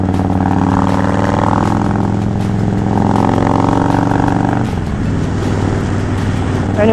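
A motorcycle being ridden on the road, with a loud steady engine drone that rises slightly in pitch, then shifts tone near the end as the throttle changes, accompanied by wind and road noise.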